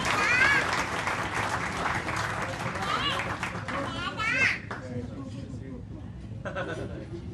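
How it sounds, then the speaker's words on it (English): A crowd at a multicultural gala in Sydney claps and cheers loudly, with children's voices and excited chatter mixed in before the noise thins out toward the end. "Ladies and gentlemen, can we please have a huge round of applause?"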